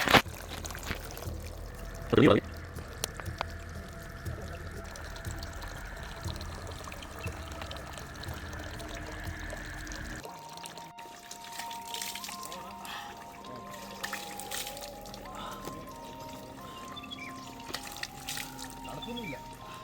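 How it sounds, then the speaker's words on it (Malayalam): Water pouring and trickling from a mountain stream near Koinipara in Mamalakkandam as it is collected, a steady close flow that runs beneath people talking throughout. "ഇവിടുന്ന് ഇച്ചിരി വെള്ളം പിടിച്ചിട്ട് പോകാനായിട്ടായിരിക്കുന്നത്"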